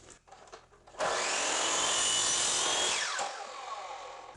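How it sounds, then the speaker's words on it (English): A miter saw spins up and makes a light trimming cut on the edge of a wooden tray, holding a loud steady whine for about two seconds before it winds down, close and with no talk. "I can make this light trimming cut on the miter saw"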